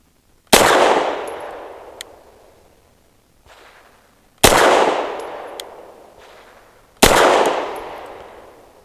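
Three sharp, loud shots from a BUL M-5 pistol with a ported barrel, fired outdoors at uneven intervals, each a hard crack with a ringing tail, with fainter metallic clinks in between.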